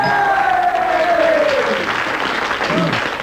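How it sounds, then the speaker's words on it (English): A studio quiz-show audience cheers and applauds loudly after a correct answer, a dense, steady roar of clapping and whoops lasting the whole moment. "a roaring cheer from your friends there"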